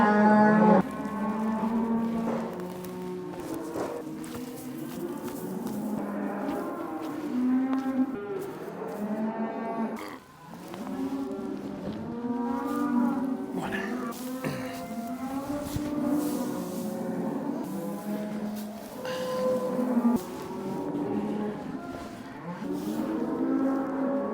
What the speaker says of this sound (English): the cows are currently in the backyard behind that wall